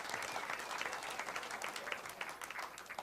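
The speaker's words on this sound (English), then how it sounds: "I think that deserves a round of applause for J.W." A rodeo show crowd at the National Finals applauds J.W. Harris with a dense, steady burst of clapping lasting a few seconds.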